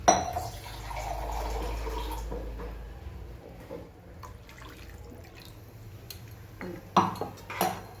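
Buttermilk and water go into a cooking pot for khandvi: a quiet, steady pour and trickle, then a few sharp clinks of utensils against the pot near the end.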